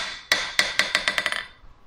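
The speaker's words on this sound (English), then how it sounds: "hitting it with the ball side of this hammer, I'm immediately putting dents in the face of this anvil" A ball-peen hammer strikes the face of a budget eBay anvil in quick succession, about nine sharp metallic rings that speed up and fade, close and clear with no talk.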